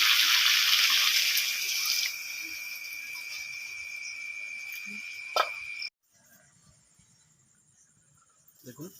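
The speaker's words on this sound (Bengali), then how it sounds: "এবার পরিমাণ মতো আমি জল দিয়ে এটাকে সেদ্ধ করব" Water is poured into a pan of sautéed mixed vegetables, a bright hissing splash for a few seconds that thins out, then stops sharply, leaving near silence with faint background noise.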